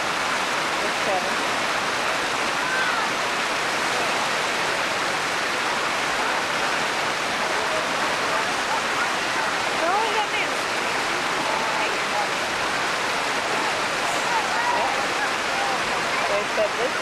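Hot water pours out in a steady, full rushing stream that stays constant and fairly loud throughout, with no breaks.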